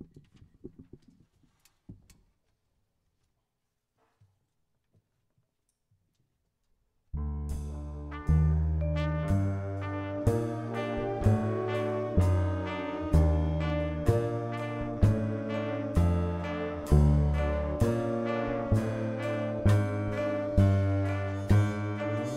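Jazz band playing a composition at a jazz festival, entering after a quiet stretch with faint sounds, then steady loud playing with repeated rhythmic accents and sustained chords.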